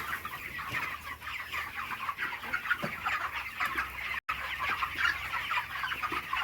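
Many chickens on a poultry farm cluck and chirp continuously in a busy, close chorus, some birds lame, with low-level barn hum beneath and no clear talking.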